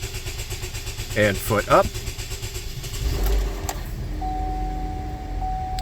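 A Cub Cadet 1050 Hydro garden tractor engine cranks with a few uneven turns, then catches and settles into a steady low idle, with someone speaking over it early on.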